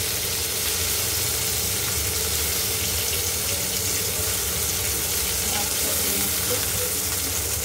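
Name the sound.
fish frying in oil in a pan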